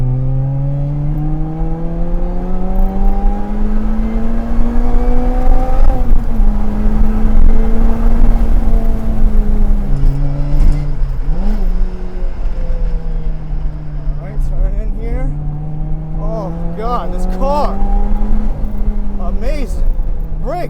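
A Lotus Exige S220 sports car on a race track, its engine droning loudly up and down through rising and falling revs and gear changes, heard from inside the cabin with a driver talking over it.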